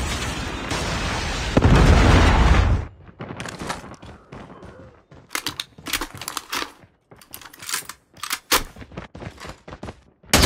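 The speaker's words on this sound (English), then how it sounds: "missile inbound." A loud missile explosion in the mobile shooter game Call of Duty Mobile, a heavy booming burst lasting a few seconds, followed by quieter, scattered bursts of gunfire and clicks.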